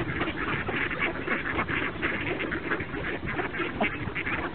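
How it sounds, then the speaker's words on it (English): A dense, steady chorus of ducks quacking, packed close together, loud and continuous without a break and with no talk over it. "We have some weather ducks taking over."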